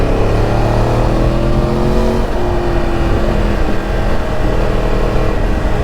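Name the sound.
Yamaha R1 Crossplane 1000cc inline-four motorcycle engine riding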